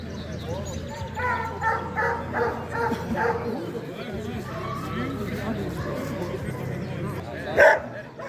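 Many Ukrainian Carpathian hounds and other hunting dogs bark and yelp at once at an outdoor hunting dog show, a steady chorus of overlapping barks at middle distance, with people talking throughout.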